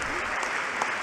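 An audience at the State of the Union applauds the president in dense, continuous clapping that fills the large hall evenly for a brief stretch, with faint voices mixed in.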